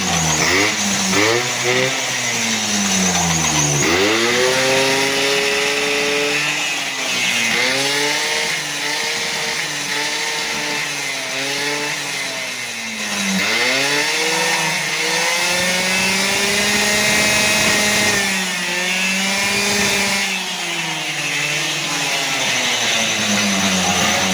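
A Honda Dio scooter engine with a freshly tuned carburetor revs up and down repeatedly, loud and close, rising and falling pitch sweeps over a steady buzzing idle.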